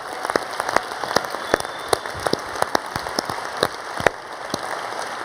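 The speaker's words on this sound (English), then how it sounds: "You give them a huge round of applause." An audience at a global health plenary session gives a round of applause, heard as scattered, irregular individual claps against a soft background hiss rather than a dense roar.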